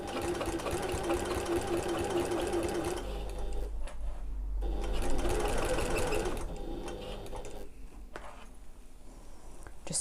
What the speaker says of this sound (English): We're going to sew around the entire top back to where we started.